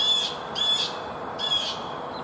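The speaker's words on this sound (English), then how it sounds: "I like the birds." Repeated bird calls, three short tonal bursts spaced about half a second to a second apart, moderately loud over a steady hiss with no talking.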